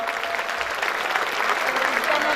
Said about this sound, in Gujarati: તાળીના ગગડાટ સાથે વધાવો